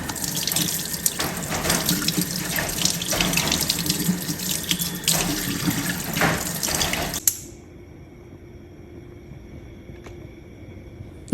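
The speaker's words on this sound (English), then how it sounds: "First, I rinse my fish just with water." Tap water pours steadily into a kitchen sink as fish is rinsed before frying, a continuous splashing rush that cuts off abruptly partway, leaving a quiet room with a faint hum.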